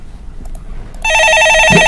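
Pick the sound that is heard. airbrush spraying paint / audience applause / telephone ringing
telephone ringing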